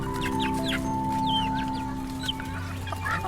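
Young chicks in a chicken coop, with several overlapping short clucks and chirps close by over a steady low hum, with no talk.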